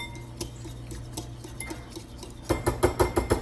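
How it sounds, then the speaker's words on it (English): Ingredients whisked together into a paste in a bowl, soft scraping at first, then a quick run of sharp rhythmic clinks of the whisk striking the bowl, close and with no talk. "I'm just gonna whisk these until they kind of form a paste."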